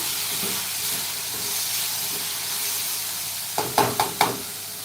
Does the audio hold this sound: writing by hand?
no